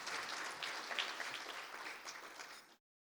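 Applause for an honorable minister at a teacher education indaba, a dense crowd clapping steadily for nearly three seconds before cutting off abruptly.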